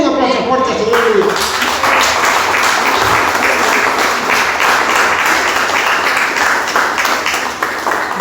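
A church congregation gives a loud, sustained round of applause that fills the hall, with dense clapping and voices mixed in beneath it.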